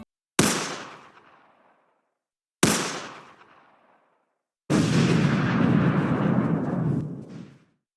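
Two sharp, loud explosion sound effects, each decaying quickly, followed by a longer roaring blast that sustains for about three seconds before cutting off.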